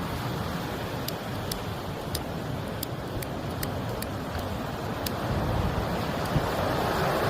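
Heavy sea waves crash continuously on the Yeongdeok shore on a bitterly cold, windy day, a dense roaring wash with wind buffeting the microphone and faint intermittent clicks, no talk.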